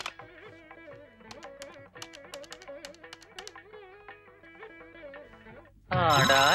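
An electronic telephone ringtone chimes a repeating melody with light tapping underneath during a call, then a loud burst of noise abruptly cuts in at the end.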